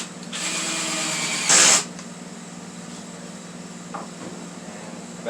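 A close power drill whines steadily for over a second, then briefly revs harder, driving a screw into a cedar cross before dropping to a quiet hum.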